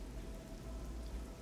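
Steady rain in the video game Oblivion, falling as a dense, even hiss with a low rumble beneath, constant and soft throughout.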